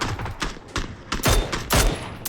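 Rapid bursts of gunfire in the PUBG battle royale game crack out in quick clusters, loud and close, with short gaps between volleys and a few single shots mixed in.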